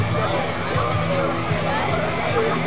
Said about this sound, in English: Massive crowd.